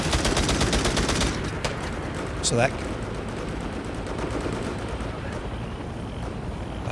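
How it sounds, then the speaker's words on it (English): Gunfire from the Vietnam-era shooter game Hell Let Loose: bursts of rapid automatic fire and scattered shots, loudest at the start, then continuing more distantly beneath a player's voice. "I'm hearing gunfire in places where there aren't people."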